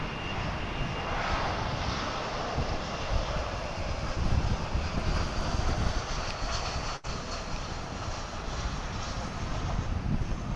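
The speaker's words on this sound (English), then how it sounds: "We'll watch American Flight 2197 coming in from Austin. It's an A321 on St. Patrick's Day on Runway DFW." An American Airlines Airbus A321 lands at DFW on St. Patrick's Day with a loud, steady jet roar and broadband rush that swells slightly midway, heard alone without speech.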